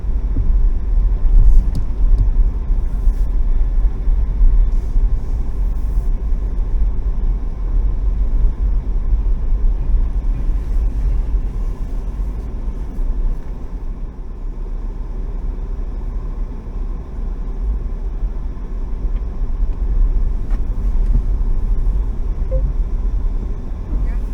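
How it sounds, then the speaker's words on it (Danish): Cars roll off at a ferry terminal while waiting vehicles prepare to board, a continuous low engine and road rumble, fairly close and steady. "Jamen, færgen er kommet ind. Og nu er bilerne ved at køre"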